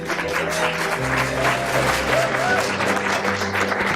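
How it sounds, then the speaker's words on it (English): An audience at a mayor's summit claps steadily as officials are called up to the stage, the applause sustained and moderately loud over low background hum and tonal room sound. "I noticed they didn't start clapping until Rob Schroeder's name was called"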